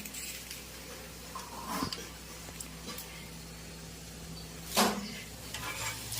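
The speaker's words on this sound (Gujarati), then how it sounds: "ચટણીનો વઘાર થાય છે." Soft sizzling of oil tempering a chutney with mustard seeds, urad dal and curry leaves, scattered crackles and spoon stirring, two brief louder bursts of spattering, close by and without talk.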